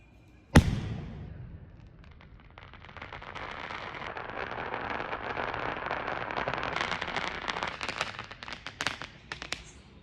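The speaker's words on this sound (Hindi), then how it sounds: "गाइस बहुत ही खतरनाक स्काई शॉट था ये वाला।" A Diwali sky shot firework launches with a sharp loud bang, then a long crackling, sputtering burst that swells and continues with scattered pops for several seconds.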